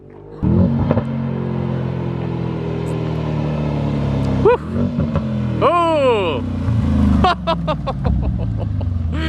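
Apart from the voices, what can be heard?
straight piped car exhaust revving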